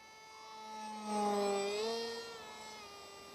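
An RC F-18 model jet with an RC Timer 2216/6 2200 Kv motor flies at about 40% throttle, giving a faint whining tone that rises and bends in pitch as it passes, with a steady airy hiss beneath.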